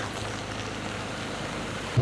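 Rain pours during a motorbike ride, forming a steady, dense hiss of falling water and wind with no talking.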